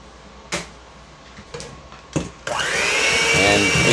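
An electric mixer beating an egg into a mixture: a few clunks and knocks, then a loud continuous whirring motor starting abruptly and running steadily to the end.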